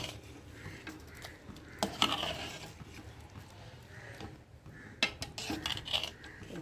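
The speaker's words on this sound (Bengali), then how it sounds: "আর এখন আমি মশলাটা একটু ভালো করে নেড়ে দেবো খিচুড়ির সাথে।" A spoon stirring spices into khichuri in a pot, giving quiet scraping and occasional metallic clinks against the pot in uneven bursts, close and without talking.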